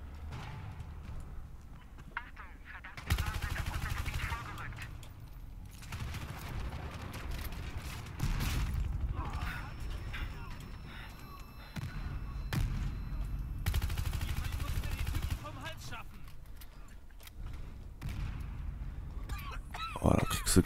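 M16A3 rifle fire in Battlefield Hardline, with bursts of gunshots recurring across a busy game soundscape, loud and fairly close, mixed with other battle noise.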